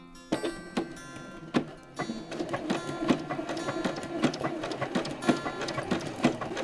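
Sewing machine running a blanket stitch along the edge of a quilted shape, a steady fast ticking mechanical patter with rhythmic clicks, fairly quiet and close.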